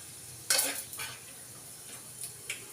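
Spoon stirring masala rice in a pan, a few scraping strokes with a sharp first scrape, then softer intermittent stirring over faint background.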